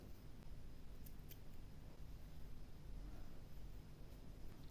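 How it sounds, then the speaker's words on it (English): Scissors snip through crochet yarn at the end of a slip-stitch row, a couple of small, close, quiet cuts over a faint, steady room hiss with no talking. "And you're going to cut off your yarn."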